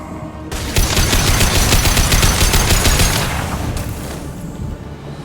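Rapid automatic gunfire from the sci-fi shooter Mass Effect 2 rattles in a loud, sustained burst of several seconds, dense repeated shots that fade toward the end.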